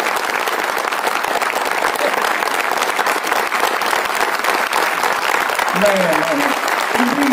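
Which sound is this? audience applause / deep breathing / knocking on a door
audience applause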